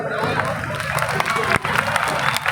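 Applause and cheering from a crowd gathered at a Buddha Jayanti stage event, a steady dense clapping with crowd murmur running throughout.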